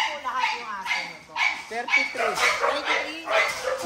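Several dogs at a kennel bark and yip in bursts close by, with people talking over them.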